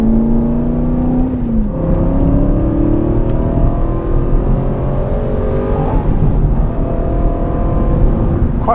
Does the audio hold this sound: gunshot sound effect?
no